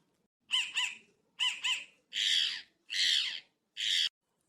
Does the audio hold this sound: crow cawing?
yes